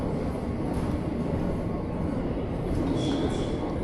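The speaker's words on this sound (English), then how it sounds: "And here comes the subway." A Shanghai Metro Line 10 subway train pulls into the station with a steady, loud, broadband rumble and rushing roar that fills the platform throughout.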